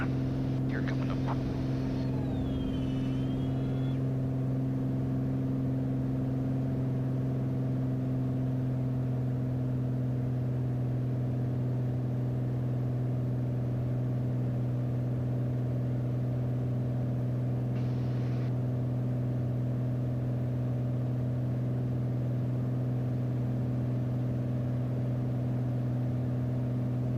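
A small propeller airplane, a Skyline, climbs out after takeoff from Toledo, Washington, its engine a steady, loud, even drone with constant tones, a faint voice briefly audible near the start.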